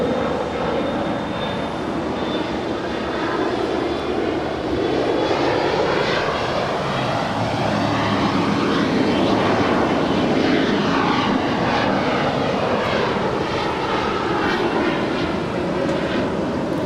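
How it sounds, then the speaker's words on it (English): A United Express Embraer E175 flown by SkyWest departs LAX for Salt Lake City. Its loud, continuous jet roar holds steady, with the pitch sweeping as the plane passes close by. No voices are heard. "Continuing with our Evo Blue party. LAX to Salt Lake City on the E175."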